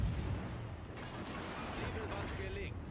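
Heavy naval gunfire from enemy ships thunders in a World of Warships Legends battle, a dense continuous rumble of cannon blasts and low booms layered with game effects, with someone talking over it.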